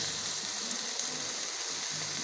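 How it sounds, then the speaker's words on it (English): A pan sizzling steadily as tomatoes are stir fried for homemade pizza, a hissy, crackling sound that continues evenly throughout. "I'm currently stir frying some tomatoes"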